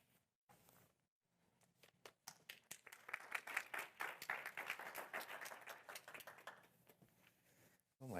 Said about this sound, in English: Oh my God, already an applause.